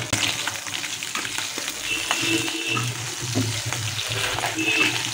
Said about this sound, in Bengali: তো সবার প্রথমে এখানে নুন আর হলুদ দিয়ে মাছগুলো, শিঙি মাছগুলোকে হালকা হালকা করে একটুখানি ভেজে নিতে হবে।